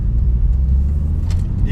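A 2017 Porsche Carrera S with its turbocharged engine and the exhaust shut gives a steady low mechanical rumble while driving, heard from inside the car with faint voices over it.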